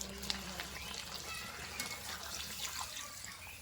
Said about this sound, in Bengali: এবারে পরিমাণ মতো আবার জল দিয়ে দেবো